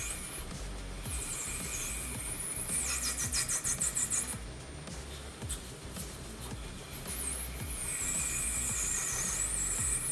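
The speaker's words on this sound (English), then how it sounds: "PVC cuts really clean and easy on the lathe, and it's easy to sneak up on the fit." A lathe turns down the outside diameter of PVC pipe, giving a continuous close hiss and squeal of cutting with a faint rhythmic chatter partway through. No one talks over it.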